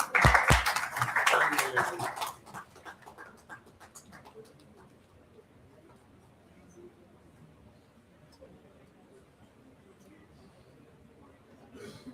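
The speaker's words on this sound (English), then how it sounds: "Please give ma'am a huge round of applause," Audience applause at a university orientation program, a burst of loud clapping at the start that fades within a few seconds into faint room murmur and scattered claps.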